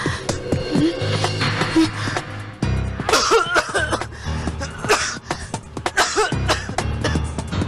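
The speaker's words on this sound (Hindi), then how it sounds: "खांस क्यों रहे हो?" Several harsh coughs and throat-clearing sounds in quick succession, close by, mixed with other brief noises and some vocal sounds.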